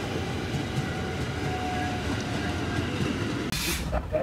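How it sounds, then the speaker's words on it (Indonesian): A Tegal Bahari business-class passenger train pulls away from Bekasi station, with a steady low rumble of rail running and a brief hiss near the end; no talking. "sekarang kita sudah berangkat dari stasiun Bekasi"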